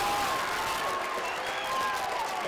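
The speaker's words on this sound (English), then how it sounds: "Nelson will once again give a round of applause to his O-line" Spectators in the stands at a high school varsity football game applaud in a continuous, even roar of clapping and crowd noise across the whole stretch.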